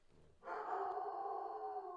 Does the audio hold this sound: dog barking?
yes